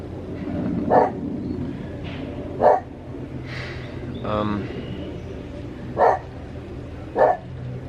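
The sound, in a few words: dog barking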